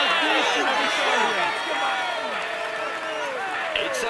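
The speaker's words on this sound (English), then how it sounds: "Come on, let's applaud him once more." Steady crowd applause and cheering at a Tour de France 2021 stage finish in a cycling video game, dense and continuous, with a commentator talking over it throughout.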